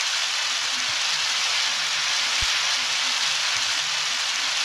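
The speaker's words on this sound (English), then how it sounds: "now it's starting to rain" Steady rain falling in Undertale, a dense even hiss throughout with a single soft thump midway, no voices.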